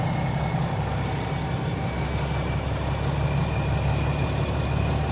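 A truck engine idles steadily on a dry driveway, a close, even low rumble with a faint high whine running through it and no talk.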